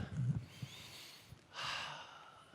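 A single deep breath taken in a quiet conference hall, with a drawn-in inhale early and a longer breathy exhale later, close and soft with no talking.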